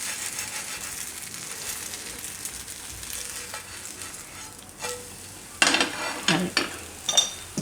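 Chickpea flour pudla sizzles steadily on a hot griddle, a close, continuous crackle with a few louder bursts of spatter and scraping near the end.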